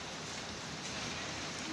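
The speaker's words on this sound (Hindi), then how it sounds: "बहुत तेज़ बारिश आ रही है" Heavy rain pouring outside during a stormy monsoon spell, a dense, even hiss of falling water that fills the short stretch at moderate loudness with no voices.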